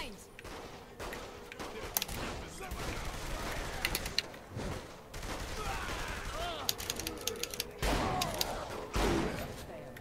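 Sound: gunfire in video game Saints Row The Third

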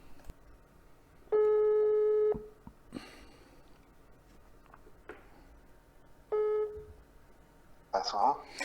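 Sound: telephone ringing tone

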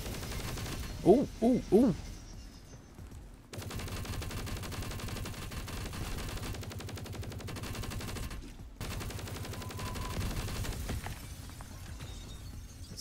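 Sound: turret gunfire in the video game CWZ

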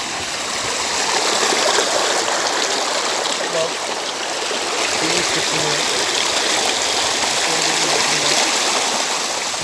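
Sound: small stream flowing into the Çiseli waterfall, Ordu

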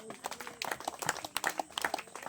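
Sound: applause, congregation clapping

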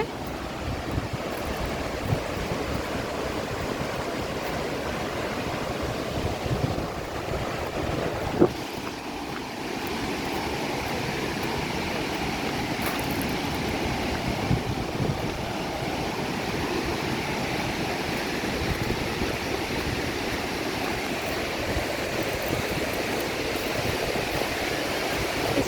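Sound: waterfall water falling and flowing

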